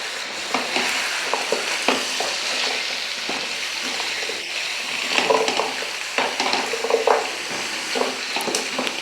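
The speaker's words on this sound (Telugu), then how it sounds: "ఇప్పుడు ఒకసారి దీన్ని కలుపుకుందాం." Pumpkin curry sizzles steadily in a pan while it is stirred, with soft scraping and clinking strokes repeating close by, with no talk.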